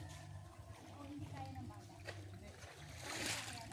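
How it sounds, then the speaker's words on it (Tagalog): Strong water gushes from a spring inside a cave as a soft, steady rushing and splashing that swells toward the end, with people talking over it. "Sa pagkat dito malakas na tubig oh."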